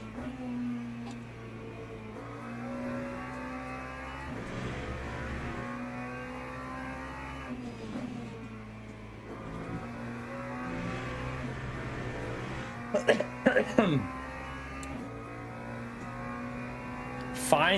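Hypercar race engines in Le Mans Ultimate droning and shifting pitch as they run, with a steady mid-distance roar and a few sharp louder bursts near the end.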